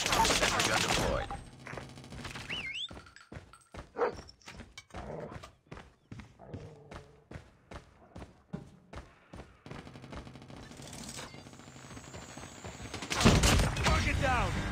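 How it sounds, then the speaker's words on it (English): Gunfire in the mobile shooter game Call of Duty Mobile, a sentry gun among other weapons, heard as rapid bursts of clipped shots with pauses between volleys and loud blasts at the start and end of the stretch. "Sentry gun deployed."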